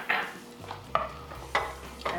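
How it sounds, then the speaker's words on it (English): Onions and garlic sautéing in a pan without oil, with a quiet frying hiss broken by four distinct scraping stirs at roughly even intervals, close by and fairly soft, no voices. "Going to saute these till the onions get soft"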